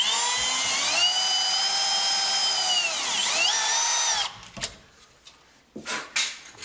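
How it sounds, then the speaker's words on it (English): A power drill bores into a door, its motor whining steadily for about four seconds with the pitch dipping as it bites, then stopping. A few brief knocks and handling sounds follow. "makes a nice little mark, and we'll drill right in there."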